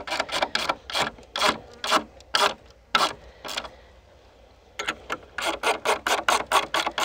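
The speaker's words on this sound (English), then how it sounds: "then it's time to go ahead and tighten up your bolts that are holding your legs together" A ratchet wrench tightens the bolts holding the legs of a picnic table kit, giving close, crisp rapid clicks in quick runs, a short pause, then a faster run of clicks.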